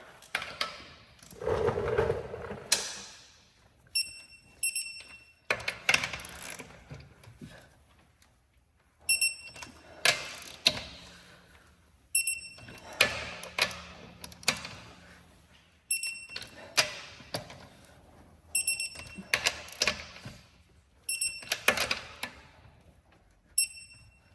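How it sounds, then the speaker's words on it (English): Torque wrench set to 100 foot-pounds tightening wheel nuts in a star pattern, a series of ratcheting bursts each ending in a sharp click, repeated about ten times with brief pauses between, close and moderately quiet. "It is the torque wrench. We have it set to 100 foot-pounds, and we're gonna do the star pattern and then all the way around."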